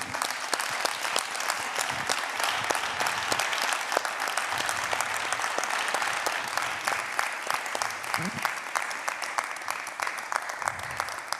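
An audience applauds for Alberto Anaut at the Premios Festival Eñe 2023 ceremony, sustained crackling clapping from a large crowd, loud and even throughout with no voices over it.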